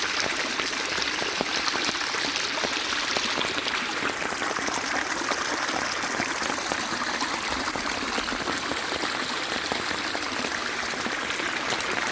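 Rainwater rushes steadily along a village canal during heavy rain, a continuous broadband wash with no pauses and no voices.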